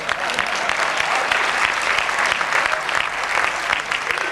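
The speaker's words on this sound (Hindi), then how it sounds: "आप तालियां बजाना चाह रहे हैं, बजा दीजिए ना एक बार।" An audience at an Urdu mushaira poetry recital claps loudly and continuously, a thick, even wash of many hands sustained throughout without speech.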